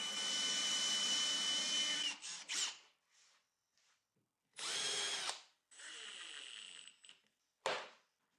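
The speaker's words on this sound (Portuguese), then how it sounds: "faço um furo de 35 milímetros com uma broca Forstner" A power drill with a Forstner bit bores a 35 mm hole in wood, running in several loud whining bursts separated by pauses, with short spin-ups and spin-downs.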